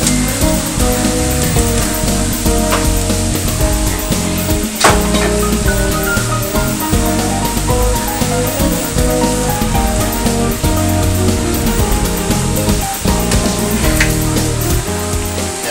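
Garlic sizzles and crackles in a hot pan for a salt cod stew, a steady dense frying hiss held close and loud with occasional sharper pops.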